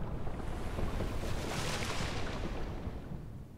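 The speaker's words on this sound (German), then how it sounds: "Ah, das Wasser sinkt." Water rushing and draining away in the Kingdom Hearts video game, a steady broad wash of noise like surf that holds level throughout and thins slightly near the end, with no talk.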